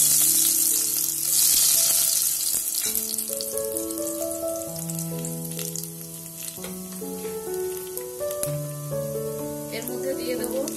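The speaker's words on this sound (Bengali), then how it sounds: "এবারে আমি তেল গরম করে কোয়া রসুন কুচি নিয়েছি" Chopped garlic fries in hot oil, giving a loud hiss that is strongest at the start and then settles into a softer, steady sizzle under a melodic tune of distinct notes.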